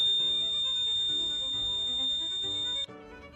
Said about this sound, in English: just a testing of the fire alarms in my apartment